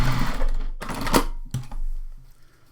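A sewing machine topstitches a 1/4 inch seam in fabric, a close rapid mechanical rattle that runs in short bursts with brief pauses between them.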